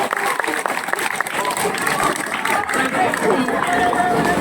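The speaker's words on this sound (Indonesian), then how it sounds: "Tepuk tangan untuk kita semua." Students applauding at a school ceremony held for a student peace declaration, a dense wash of clapping from a large crowd mixed with background chatter and voices.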